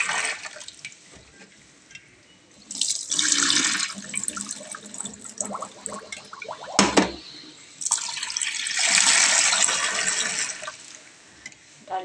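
Tap water runs steadily into a bowl as soaked lentils are rinsed by hand in a home kitchen, a close continuous splashing rush that swells and dips with stirring and one sharp knock partway through, with no talk.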